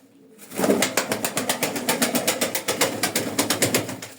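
Pigeons, including a crested male, coo and shuffle about in a loft, a steady run of rhythmic coos with soft wing and body movement close by and no talking.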